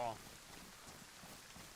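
Steady rain falling in the survival game DayZ, a constant broadband hiss that runs evenly through the whole stretch, moderately loud with no clear gaps.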